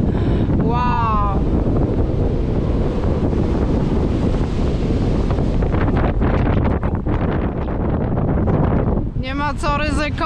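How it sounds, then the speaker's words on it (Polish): Strong wind on a hilltop on the Reykjanes peninsula, Iceland, buffets the microphone with a loud, steady roar, while a person speaks briefly at the start and again near the end. "jest wiatr u góry"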